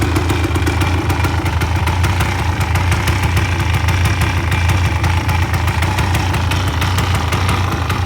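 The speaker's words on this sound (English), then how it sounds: "I think I got the idle a little bit too low on this bike." A 1986 Honda ATC250R three-wheeler engine idles low and steady up close, a continuous loud rapid putter with light mechanical clatter and no voices.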